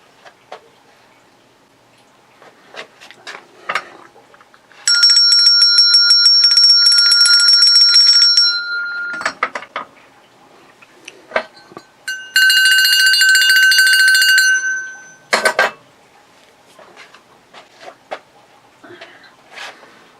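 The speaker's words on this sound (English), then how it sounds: "ring the bell" A bell rings loudly in two long, trilling bursts of several seconds each, separated by scattered clicks and rustling, with a sharp extra strike after the second ring.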